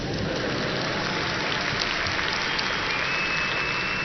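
An audience at a university commencement ceremony at Northeastern applauds, a dense, steady wash of clapping that stays loud and even throughout.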